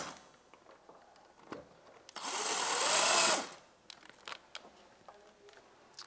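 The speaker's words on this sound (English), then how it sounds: "just drill it into the wall." A power drill drives a mounting block into a wall for a mini theater booth, one loud, steady burst of about a second standing out from quieter handling noises.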